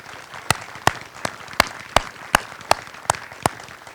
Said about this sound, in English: Please join me in a round of applause for the soldiers on the field and those they represent.